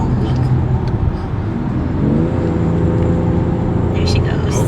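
BMW X3 M40i accelerating on a road, a 2023 model, its engine note rising in pitch midway through over steady road and traffic noise, with a faint voice murmuring.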